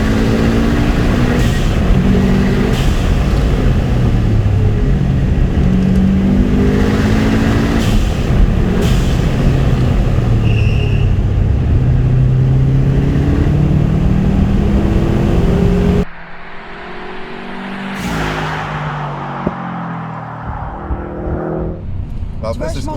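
Subaru Impreza WRX STI Petter Solberg WR1 flat-four engine and exhaust rev up and down in a loud, rough burble, rising and falling repeatedly, heard from inside the car with people talking over it throughout.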